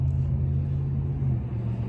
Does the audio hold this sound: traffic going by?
yes